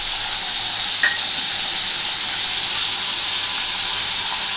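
Whole cumin seeds sizzle in hot oil in a kadai, giving a steady bright frying hiss throughout with no talking.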